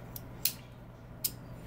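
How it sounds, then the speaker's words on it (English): Scissors snipping through ramp leaves in a kitchen, two short crisp cuts about a second apart over a low steady background hum. "snip it off with the scissors too"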